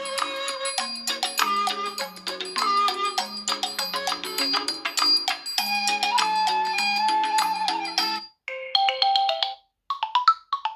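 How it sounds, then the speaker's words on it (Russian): Bright electronic ringtone melodies from a Tecno Camon 20 Pro phone play one after another, loud and tuneful, switching to short chiming fragments near the end. "Много рингтонов"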